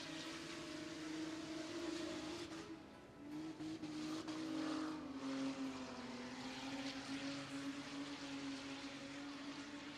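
Race car engines drone steadily as cars run laps on the Pine Ridge dirt track. The revving motors are heard from some distance at moderate volume, with no talk.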